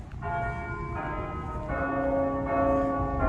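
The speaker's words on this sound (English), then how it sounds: "I'm keeping the video playing because those church bells," Church bells ring on during a walk through a town street, their steady overlapping peals loud and continuous for the whole stretch, with a low ambient rumble beneath and no talking.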